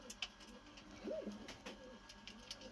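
A pet pigeon gives a soft, low coo once, close by, amid faint background noise and a few light taps.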